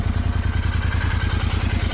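A 2025 Royal Enfield Continental GT650 twin-cylinder engine runs steadily while riding, a close, even, throbbing low thrum with a pulsing beat and no talking over it.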